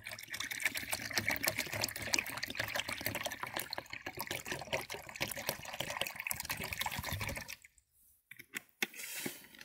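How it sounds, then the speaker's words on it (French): One litre of spring water poured steadily into a container for a purification bath, a continuous splashing stream that runs for about seven seconds, then stops abruptly before a brief, quieter trickle. "on va rajouter l'eau de source, donc pareil, 1 litre."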